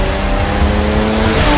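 Jaguar XE on the Spa race circuit, a loud engine roar at sustained pace with shifting tonal whine and a brief tire squeal, close and continuous.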